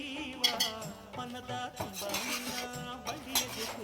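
Metal utensils scrape and clink against a pan as capsicum masala is stirred, with repeated scraping strokes and faint background music.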